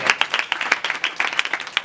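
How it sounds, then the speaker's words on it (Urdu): A congregation at a church service claps vigorously, with dense, close, overlapping hand claps filling the short burst. "خدا کے جلال کے لیے زوردار تالیاں۔"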